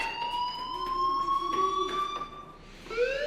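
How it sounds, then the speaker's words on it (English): A fire alarm rings in the video game Life is Strange, a steady electronic tone with wavering pitch that sounds continuously throughout, fairly loud and close, with no talking over it. "Hey, do you hear that fire alarm?"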